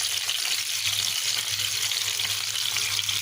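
Katla fish pieces sizzle steadily in hot oil in a kadai, a dense continuous frying hiss with a low hum underneath and no talking.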